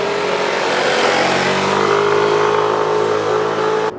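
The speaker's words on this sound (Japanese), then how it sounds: "それでは 125cc クラスのスクーターにはちょっと厳しいと思われる険しい峠道を走ってみます" A Yamaha Cygnus Gryphus 125cc scooter engine accelerates on a steep mountain pass, a loud steady drone with rising pitch under wind rush that cuts off abruptly near the end.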